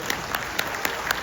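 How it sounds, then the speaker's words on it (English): Audience applause at a family gathering, heard as a few evenly spaced claps rising out of a faint hiss, quiet and somewhat distant, with no talking. "Let's give them a round of applause."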